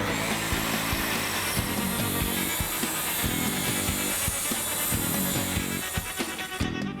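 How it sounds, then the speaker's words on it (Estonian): Power saw running along a guide rail adapter, cutting a thin strip off a wooden board, a loud continuous whining buzz with rhythmic low thumps as the blade feeds through the wood. "saag jookseb, näete, sellise spetsiaalse adapteri abil jookseb siin soone sees. Saame siit ühe väikse riba praegu maha."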